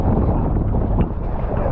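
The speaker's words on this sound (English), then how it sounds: "clearly too windy to even hear what I'm saying" Strong wind on a proa sailing boat at sea buffets the microphone in a steady, roaring rush, loud and continuous, with a faint hint of water and boat noise beneath.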